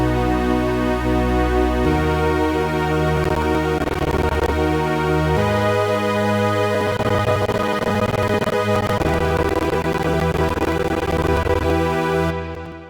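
Synth strings in a music production track play sustained, layered chords that shift every few seconds, full and steady before fading out at the very end.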